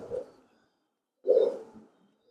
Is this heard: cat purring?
no